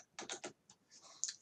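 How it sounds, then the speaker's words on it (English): Quiet, close typing on a computer keyboard: a quick run of three key taps, then a few softer scattered clicks after a short pause, with no voices. "Tried typing in a few numbers, nothing much is happening."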